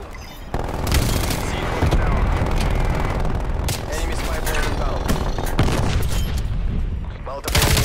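Artillery strike in Call of Duty: Black Ops Cold War multiplayer, with dense, loud bursts of gunfire and booming explosions rolling almost continuously, overlaid with game voice callouts.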